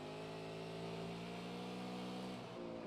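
Race car engine at New Smyrna Speedway, heard from an onboard camera in the 10 car with gearbox audio, droning loudly and steadily with strong harmonic tones, then dipping in pitch near the end as the driver lifts for corner entry.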